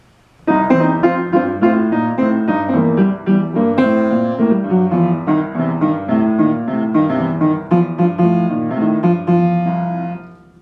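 A piano improvises freely over chords, bright melodic runs above sustained harmony, played loud and continuous with no talking.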